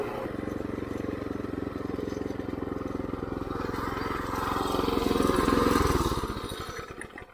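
A scratch-built off-road scooter's small engine drones at speed, a buzzing, rattly motor note that swells louder and higher for a couple of seconds before easing off, heard close with no talking.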